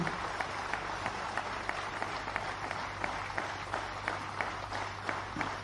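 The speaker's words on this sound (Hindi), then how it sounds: "आप सभी लोग अपनी अपनी जगहों पर खड़े हो जाएं और जोरदार तालियों से अभिनंदित करें" At the Ayushman Bharat launch event for CAPF personnel, a standing audience gives sustained applause, with a dense, even patter of many hands and distinct sharper claps recurring at a steady pace, heard at a distance under a low constant hum.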